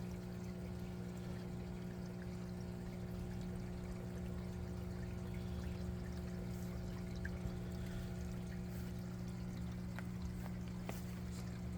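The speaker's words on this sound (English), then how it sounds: "It's flooding up the flood and drain bed right now. See the water going in?" Water pours steadily into a large aquaponics flood and drain grow bed, a soft continuous trickle and splash with a low hum beneath, faint and alone.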